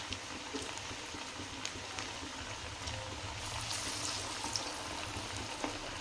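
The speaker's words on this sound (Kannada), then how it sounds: "ಎಣ್ಣೆಯಲ್ಲಿ ಚೆನ್ನಾಗಿ ಫ್ರೈ ಆದಮೇಲೆ ನಾವು ಇನ್ನೊಂದು ಕಡೆ" Chana dal masala vada, Karnataka-style kadlebele vada, frying in hot oil, giving a steady, even bubbling hiss that carries on unbroken from start to finish with no talk.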